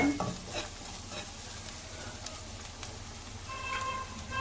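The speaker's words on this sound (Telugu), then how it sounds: "వేసుకొని కొంచెం ఫ్రై చేసుకోవాలి" Onions for an egg curry fry in a pan, giving a steady close sizzle with faint stirring scrapes and a brief utensil clink near the start, with no talking.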